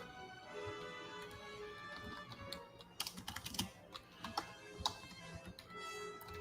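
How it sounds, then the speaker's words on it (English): Rapid typing on a computer keyboard, irregular bursts of clicking keys, close and moderately quiet, with no talking. "Try not to make too many typing noises while I do it."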